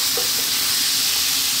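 Bacon and mushrooms frying in a pan over high heat, a steady close broadband sizzle and hiss with faint stirring scrapes, no voices.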